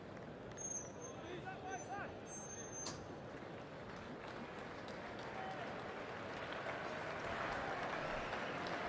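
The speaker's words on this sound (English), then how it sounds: "he says thanks to the crowd for the applause" Crowd applause at a Trent Bridge cricket match after a catch, a broad sustained patter of clapping that swells toward the end, with faint background babble and commentary voices.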